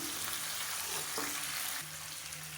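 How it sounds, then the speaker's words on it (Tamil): Onion with a handful of mint and coriander sautés in a pan, giving a dense, even sizzle with a faint stir partway through. It is steady and fairly close. "இது எல்லாத்தையும் நல்லா வதக்கிக்கலாம்"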